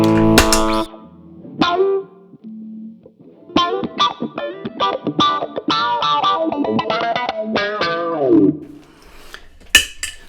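An electric guitar plays clean through a MayFly Audio pedal, with chords and a run of plucked single notes ringing clearly and fairly loud, no voice.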